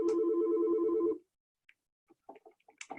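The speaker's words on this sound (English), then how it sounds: "The phone, office phone started ringing." An office telephone rings loudly for about a second with a steady electronic warble, then cuts off and is followed by faint scattered clicks and small noises.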